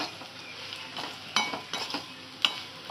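A spoon stirs salt into a spiced mixture in a hot pan while cooking butter rice, giving several scraping strokes and metallic clinks over a low sizzle.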